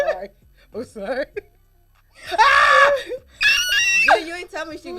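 A woman lets out two long, loud screams in a radio studio, with short bursts of speech and laughter around them.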